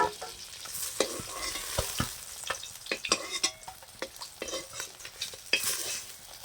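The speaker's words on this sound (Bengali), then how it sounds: "এই যে মাছগুলো ভাজা হয়ে গেছে এবার আমি তুলে নেবো" Fish frying in mustard oil, with a continuous crackling sizzle and repeated scrapes and clinks of a spatula as the pieces are stirred and lifted from the pan.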